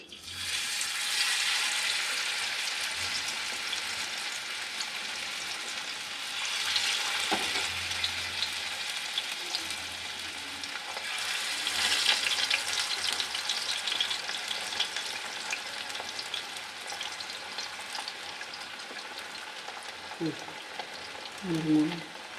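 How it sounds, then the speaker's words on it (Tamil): Fish sizzles as it fries in hot oil in a village kitchen, a continuous crackling hiss that swells and fades, with a few soft clinks of utensils toward the end. "இப்போ மீன் பொரிச்சிடலாம்."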